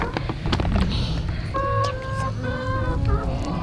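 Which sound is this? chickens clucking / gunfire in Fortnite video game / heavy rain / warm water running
chickens clucking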